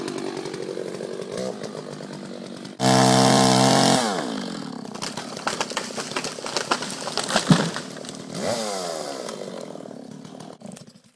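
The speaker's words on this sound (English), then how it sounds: "I just did a pretty straightforward what we call scarf cut, and you don't come in any more than a third of the tree." Chainsaw cutting a scarf notch into a standing tree during a timber harvest: a steady running engine that roars loudly for about a second as it bites into the wood, then drops back to a varying, rough buzz.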